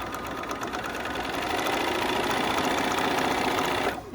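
A Brother 475 embroidery machine runs steadily as it stitches a design, a close, continuous mechanical whir with rapid needle ticking that holds for about four seconds before cutting off at the end.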